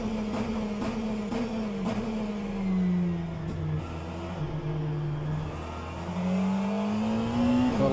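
Engines in a virtual endurance race, a McLaren among them, drone steadily while a hypercar closes in and sweeps past, its pitch climbing and falling. No one speaks.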